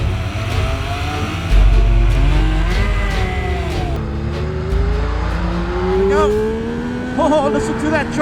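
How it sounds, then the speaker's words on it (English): A Triumph Speed Triple 1200 RR motorcycle's triple-cylinder engine revs up toward the red line and climbs through the gears on an open freeway, its rising pitch sweeping upward repeatedly, loud and close, with a voice speaking over it. "Oh, listen to that triple rev."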